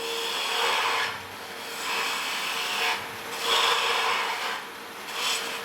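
A bowl gouge with a secondary grind cuts wood on a lathe during a club woodturning demonstration, giving a steady close rasping scrape that swells and eases in several passes.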